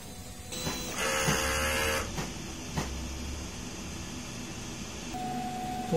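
A DTF printer runs a print head cleaning, with mechanical whirring and rattling, a louder burst in the middle, then a steady tone near the end; no talking.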